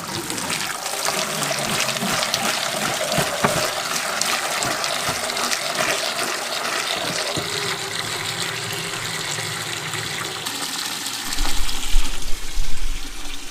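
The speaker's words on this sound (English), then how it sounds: "Hot water going." Hot water runs steadily from a tap into a 5-gallon bucket, a continuous broadband rush that grows louder and fuller near the end as the bucket fills.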